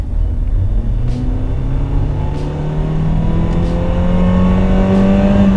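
A small turbocharged four-cylinder Citroën in sport mode pulls hard under acceleration, its pitch climbing steadily through the gear, loud and close with a rising, droning rumble.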